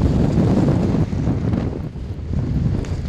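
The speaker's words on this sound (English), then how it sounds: "No, it's another windy day." Strong wind sweeping across the Greenland icecap during a summer sledging expedition, a loud continuous roar buffeting the microphone with low rumbling gusts and no letup.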